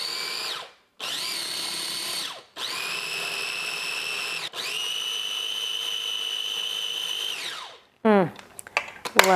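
A small blender whirs a cilantro-lime sauce with lime juice and salt in four steady high-pitched bursts with brief pauses between, loud and close, then a few clattering knocks at the end.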